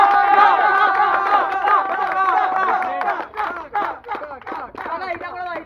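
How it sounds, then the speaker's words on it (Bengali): Crowd applauding and cheering at a football awards ceremony on a turf field in Kolkata, dense clapping and shouting that breaks into choppier bursts toward the end, with voices mixed in. "ধরে হাততালি"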